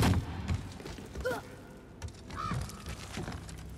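A crow in the video game God of War caws a few times, short harsh calls at moderate distance amid low thuds and game ambience.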